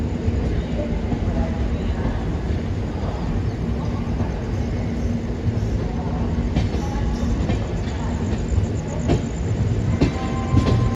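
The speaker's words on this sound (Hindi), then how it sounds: "तो चलिए दोस्तों, फाइनली हमारी जो ट्रेन है वो रतलाम जंक्शन से भी निकल चुकी है।" The Mumbai–Delhi Yuva AC superfast express runs at speed after leaving Ratlam Junction, heard from inside as a loud, continuous rumble with rhythmic wheel clatter and faint rail squeal.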